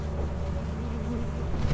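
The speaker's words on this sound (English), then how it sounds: "Circuit bees. You can take beehives." Circuit bees in the video game Lethal Company give off a dense, steady electric buzz with no voices, holding at an even loudness.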